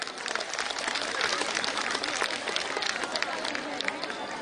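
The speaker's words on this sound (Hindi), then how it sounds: "तो एक बार फिर से मोदी जी के लिए आप लोग ताली बजाइए।" A crowd at a BJP Jhuggi Samman Yatra rally claps loudly for Modi, dense sustained applause with scattered voices mixed in throughout.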